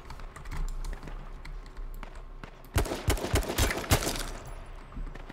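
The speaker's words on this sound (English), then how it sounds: "Shots to my left." Video game gunfire in a doubles battle royale match, a quick cluster of sharp shots around the middle of the moment, fairly close, over faint background game noise and key clicks.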